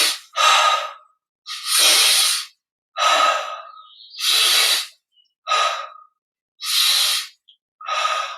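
Slow, deliberate breaths during a guided breathing and energization exercise, about eight distinct breath sounds alternating in and out, close and fairly loud, with no talking.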